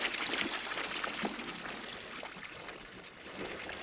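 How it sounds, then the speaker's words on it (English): Wort pours steadily from a pot in the Brewmaster beer brewing simulator game, a continuous close splashing, trickling stream that runs for the whole stretch with no talk over it. "We'll just pour it right on in."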